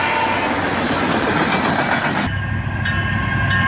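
A Canadian Pacific freight train rolls past close by on a warm morning, a loud continuous rumble with wheel clatter that shifts in tone partway through as the cars go by.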